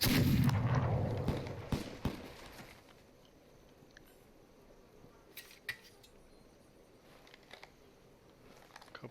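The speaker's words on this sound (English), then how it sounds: "Couple of shots to warm him up." Gunfire in the video game This Land Is My Land: a loud burst at the start with booming low rumble, then a few sharp, distant shots spaced out against a quiet background.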